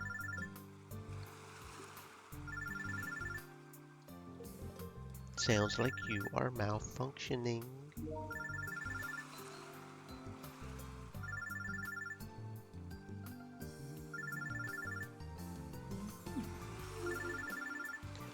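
A phone droid rings inside a bag in the visual novel game Robotics;Notes Elite, its electronic trills repeating in short bursts over a steady musical background, interrupted midway by a voice speaking.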